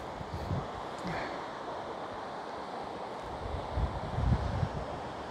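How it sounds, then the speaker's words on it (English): River waterfalls at Chester near the racecourse, a continuous rushing roar heard from some distance outdoors, with wind buffeting the microphone and a few louder swells toward the end. "But it's like these waterfalls."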